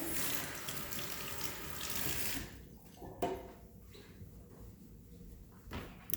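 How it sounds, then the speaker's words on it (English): Water runs from a tap as hands are rinsed, a steady rushing splash that stops partway through, followed by a few quiet knocks and handling sounds nearby. "give my hands a little rinse"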